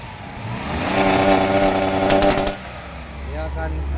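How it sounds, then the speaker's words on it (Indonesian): Daihatsu Xenia 1000 car engine revving hard and held at a 3000 RPM limit, a loud steady drone for about two seconds before dropping to idle, while a person talks over it. "Dia akan meletup-letup seperti itu kalau terus kita tarik gasnya."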